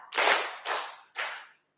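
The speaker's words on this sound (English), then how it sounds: "Let's give her 3 hearty claps" An audience claps in unison three times, loud, close and evenly spaced, each clap a sharp burst that decays quickly, with no talking.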